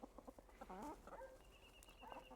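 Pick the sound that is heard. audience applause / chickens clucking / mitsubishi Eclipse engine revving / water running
chickens clucking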